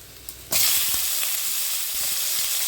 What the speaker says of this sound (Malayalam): ഉള്ളി ഇവിടെ വഴന്നുകൊണ്ടിരിക്കുന്നതേ ഉള്ളൂ.